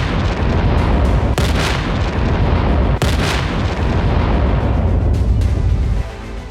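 Explosions from Israeli air strikes on Yemen, in Sanaa, heard as loud, continuous rumbling blasts with sharp booming peaks, sustained heavy roar before dropping off near the end.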